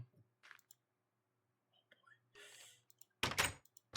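Doors are placed in a video game while a skeleton enemy approaches, giving a few short, separate wooden knocks and thuds amid near silence, with soft whispering at times.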